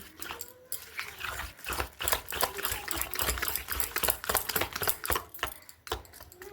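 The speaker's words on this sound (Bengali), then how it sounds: "এখানে আমি কাঁটা চামচ দিয়ে খুব ভালো করে কিন্তু মিশিয়ে নিচ্ছি" A fork beats semolina and rice flour batter in a bowl, giving rapid, steady clicking and scraping strokes that stay close and fairly quiet, with no voices.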